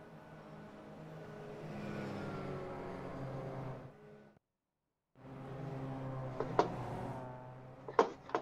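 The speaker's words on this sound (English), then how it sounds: "the sounds of the Mazda do remind me of those Toyotas. How loud they are." Mazda race car engine at a club race day, a steady droning rev with harmonic tones that cuts out briefly, then returns with sharp spikes, loud and close, no talk.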